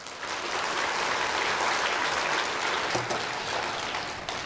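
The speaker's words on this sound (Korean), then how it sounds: "노인들 위해서 박수 한번 쳐주세요." A church congregation breaks into sustained applause, a thick continuous wall of many hands clapping for over four seconds, heard from within the hall with no voices over it.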